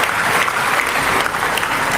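An audience bursts into dense, continuous applause, many hands clapping together at a steady, moderately loud level for a couple of seconds.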